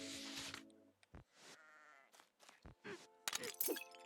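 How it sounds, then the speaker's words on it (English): Sheep in the video game Lila's Sky Ark let out several short, clear bleats in separate bursts between bright chimes and musical tones, fairly quiet overall. "sheep block, good sheep"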